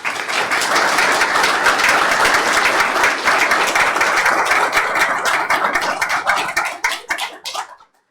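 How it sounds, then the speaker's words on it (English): A room at a public meeting breaks into loud, sustained applause from many hands, a dense steady wash of clapping that thins into a few scattered claps before stopping. "I would ask if we could have a nice round of applause for"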